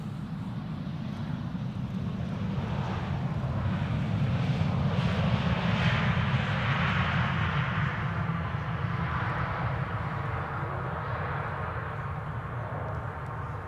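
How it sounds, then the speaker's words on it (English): An Austrian airliner arriving from Vienna comes in to land on the center runway, a broad, steady jet engine roar that swells and holds at moderate distance, with faint wind noise and no talk. "Austrian is also flying to the center runway, arriving from Vienna."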